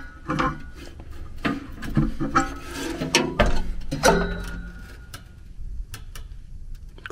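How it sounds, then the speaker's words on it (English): A big wrench tightens set screws on a variable-speed HVAC blower motor with a string of close, sharp clicks and ratcheting scrapes, busy at first and then thinning out into scattered ticks. "I like to use a big wrench for tightening the set screws"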